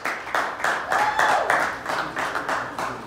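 A press conference audience applauds a band member, the clapping rising and falling in uneven bursts of hand claps at close range with no talking over it.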